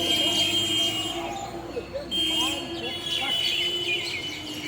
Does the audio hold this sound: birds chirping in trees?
yes